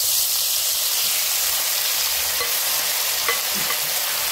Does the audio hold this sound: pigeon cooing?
no